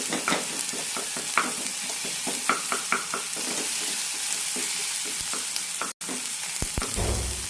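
Tomatoes sauté in a pan for a cluster beans curry, a constant sizzle broken by repeated spatula scrapes and taps at an uneven rhythm, with a brief cut in the sound near the end.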